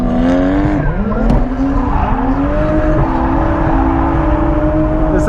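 Car drifting on the Higashi track at night, engine roaring loud and close with pitch sweeping up and down through gear changes and tire squeal as it slides through corners.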